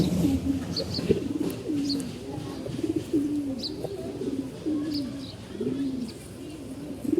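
Pigeons coo repeatedly at close range, soft rolling calls in a steady rhythm, with faint chirps above.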